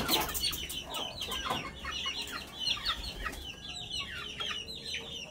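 Young roundhead, sweater and gilmore gamefowl chicks, one to a few months old, hungry before feeding, clucking and chirping in a busy overlapping chorus close by, with wing flutters and no talk.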